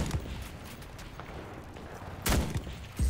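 Gunfire in the World War II shooter Enlisted, mostly faint and distant crackling shots with a couple of louder bursts near the end, against a low battlefield rumble.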